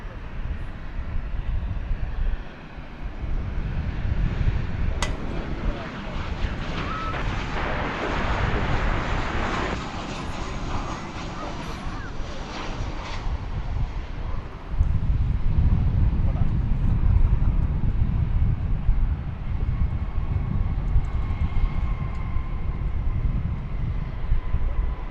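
A United airliner on approach to a DFW Airport runway roars as a broad, steady jet rumble that swells louder in the later part, heard from a distance outdoors.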